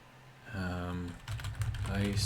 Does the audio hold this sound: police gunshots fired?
no